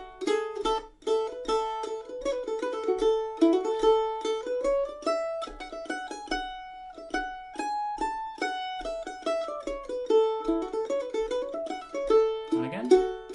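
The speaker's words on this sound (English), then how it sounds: "So I'll play it a bit more up to speed." Mandolin playing a fast tune full of quick triplet runs at full tempo, bright plucked notes in a steady stream close up, with a brief lower slide near the end and no talking.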